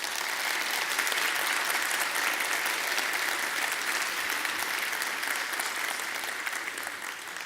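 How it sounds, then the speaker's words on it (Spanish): Applause from a conference audience in Santiago, steady and sustained for the whole stretch, a dense crowd clapping that tapers off slightly near the end with no talk over it. "la alcaldesa de Santiago, Carolina Toá, para quien pida un aplauso."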